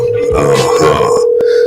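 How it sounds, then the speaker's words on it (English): A steady ringback tone from an outgoing telephone call holds for under two seconds, with busy background noise and voices around it before it cuts off. "I wonder if she gonna pick the phone up."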